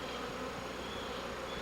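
Honey bees buzzing around an opened hive while the inner cover goes back on: a steady, dense drone of many wings, close and continuous, with no talking.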